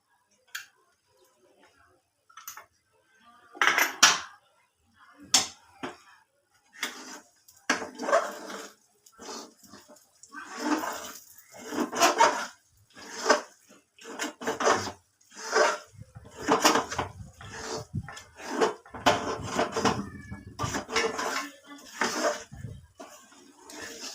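Mysore pak mixture stirred with ghee in a pan: repeated scraping, ticking spoon strokes in an irregular rhythm, close and moderately loud, with a few quiet gaps.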